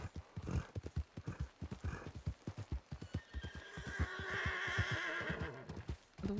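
A horse in a Wild West role-play video game gives a loud whinny over a run of steady clip-clopping hooves, the hoofbeats quick and regular before the drawn-out neigh rises near the end.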